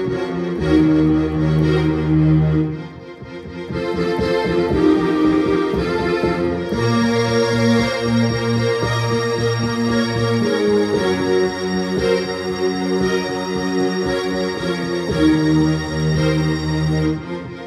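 Epic Strings voice on a Roland LX708 digital piano, lush sustained string chords swelling and shifting over a continuous bed, loud and close with no voices.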